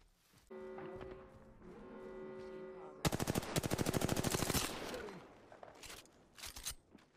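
Automatic weapon fire in the Apex Legends battle royale game, a long rapid burst of shots running about a second and a half, preceded by a steady droning tone and followed by a few scattered later shots.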